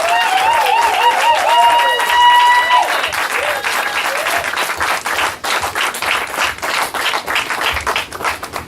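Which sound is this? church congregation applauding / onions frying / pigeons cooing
church congregation applauding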